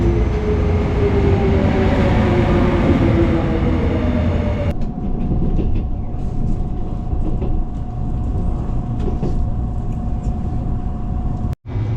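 Passenger train riding from Jecheon toward Mindungsan station in Korea, a loud continuous rumble and rattle of wheels on track from inside the car, with a faint steady tone joining partway through.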